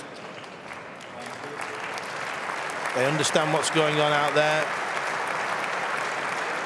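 A German crowd applauds at a 2011 German Open men's singles table tennis semifinal, steady far-off clapping running under a commentator's voice, with a brief tonal whistle-like sound in the middle.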